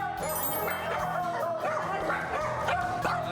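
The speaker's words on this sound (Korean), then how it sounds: "강아지가 많네요." Several dogs at a home barking and yipping close by, rapid overlapping barks with whimpering in between, filling the whole moment.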